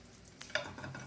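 Kielbasa sausage fries in a pan with a brief sizzle and a stir or scrape, faint and close, with no talking.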